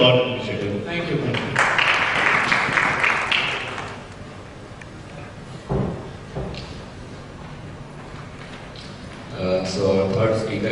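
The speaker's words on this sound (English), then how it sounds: "Everybody should applaud the initiative." Conference audience applauding a traffic e-governance initiative at a smart city transport session, a burst of clapping swelling near the start and fading after a few seconds, with a brief second swell toward the end and voices murmuring around it.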